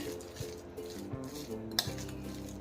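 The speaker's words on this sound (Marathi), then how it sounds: "आता हे चमच्याने परत एकदा चांगलं मिक्स करून घ्यायचं" Spoon stirring cabbage bhaji batter in a bowl, giving soft scraping and clinking strokes against the bowl at an uneven rhythm, close and moderately quiet, with a sharp clink near the end.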